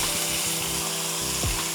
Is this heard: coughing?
no